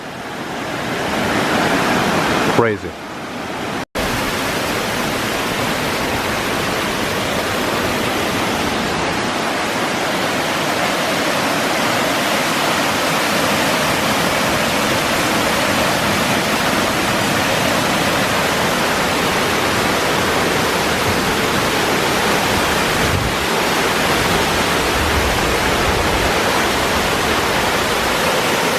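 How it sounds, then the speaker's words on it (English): Loud, ferocious rushing water pours through Clifton Gorge in a steady, full roar that fills the scene; a brief dropout comes near the start and a single word is spoken early on. "Wow, that is some very ferocious water."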